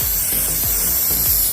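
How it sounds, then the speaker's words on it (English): A Bulldog 14 CFM portable air compressor blasts air from its hose in a loud, steady, close hiss with faint rhythmic pulsing underneath. "For a portable air compressor to blow that type of air out is pretty crazy."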